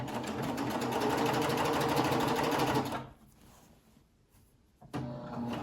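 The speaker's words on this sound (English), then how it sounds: "This gives a really nice stretchy finish. There's stretch in the sewing machine method too" A coverstitch sewing machine whirs steadily and loudly for about three seconds, stops into near quiet with faint handling noises, then briefly starts up again.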